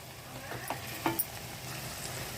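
Onions frying in a pan for a chicken fry and basmati pulao, giving a steady low sizzle with a few light stirring clinks and scrapes, close and moderately quiet, with no voices.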